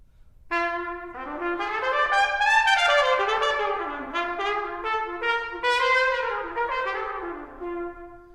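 Solo trumpet playing a soulful blues line shaped by a church-influenced style, with bending, sliding notes in one continuous, expressive phrase; clear and close, unaccompanied, no talking.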